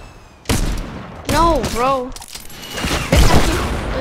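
Shotgun fire in the video game Fortnite: a few sharp, loud blasts with rattling tails, spaced apart, mixed with voices talking over game audio.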